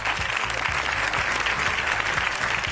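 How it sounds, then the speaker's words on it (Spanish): An audience applauds in a hall as three leaders are called up to join the speaker in the ring; steady, dense clapping fills the whole stretch at an even level, with no talk over it. "Un aplauso."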